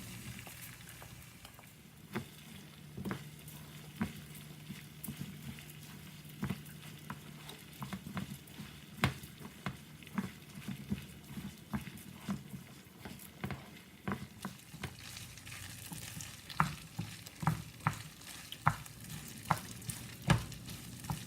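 Garlic and rice fry in olive oil in a pot while being stirred, making a steady close sizzle broken by frequent scraping and clacking strokes that grow busier toward the end.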